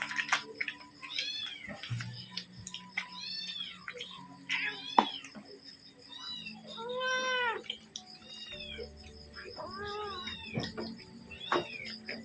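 A cat meows repeatedly, several distinct rising-falling calls spread across the span, fairly close, over a steady background hum with low household noise and no talking.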